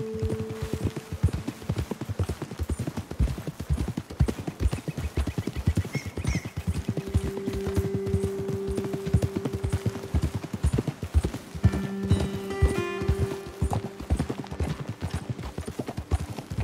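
Horse hooves clip-clop in a steady trotting rhythm across the whole stretch in Red Dead Redemption 2, with faint tonal game music and no talk over them.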